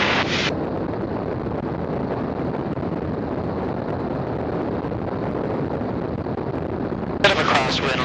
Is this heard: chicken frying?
no